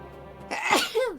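One sharp human sneeze indoors, close and fairly loud, rising from a short intake into an abrupt burst with a brief voiced tail, and no other sound around it.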